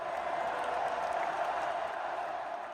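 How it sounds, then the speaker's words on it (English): A distant crowd roars steadily, a continuous wash of cheering and applause heard from far off with no breaks. "Did I just hear people cheering?"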